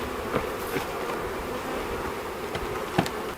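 Honey bees drone steadily around a hive box in an apiary after a cold Texas winter, a continuous close insect buzz with a few brief louder passes as bees fly near.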